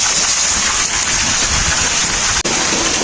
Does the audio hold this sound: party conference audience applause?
no